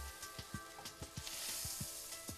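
Garlic shrimp sear in butter and raw garlic in a hot pan, giving a soft, steady sizzle broken by a series of quick crackling pops, heard alone.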